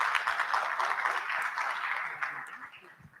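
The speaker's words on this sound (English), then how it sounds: "Please give her a round of applause." An audience at a business conference on AI applauds the moderator as she is introduced, a moderate, even patter of claps that slowly fades out.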